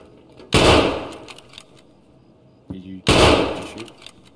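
Two loud, sharp gunfire bursts in Escape from Tarkov, each ringing out and fading over about half a second, spaced a few seconds apart, with players talking quietly around them.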